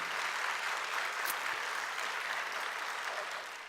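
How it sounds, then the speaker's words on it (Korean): Audience applause at a forum, a thick wash of many hands clapping together at steady loudness before beginning to taper off at the end, with no speech. "우리 박수 한번 쳐주면 좋겠습니다"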